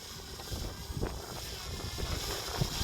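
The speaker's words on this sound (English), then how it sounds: "And it's actually gotten kind of windy here" Wind rushes and buffets across the microphone in a steady low roar, with occasional gusts thumping through the noise.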